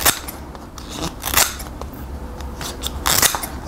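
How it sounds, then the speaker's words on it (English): Several crisp snips of kitchen scissors trimming tough, prickly artichoke leaves, in bursts with short pauses between them, close by. "trim up these leaves that are sharp and prickly with kitchen scissors"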